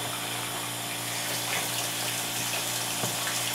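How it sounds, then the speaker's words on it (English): Water from a hose runs into a portable compact washing machine, making a steady, loud, continuous rush with a low hum underneath and no voices. "I can turn on the water and my machine is filling."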